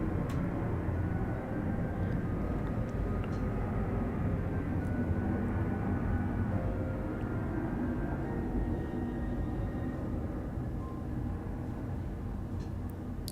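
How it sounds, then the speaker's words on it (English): Airplane flying overhead outdoors: a steady, broad low roar that stays loud and continuous throughout without fading. "Sorry about the plane."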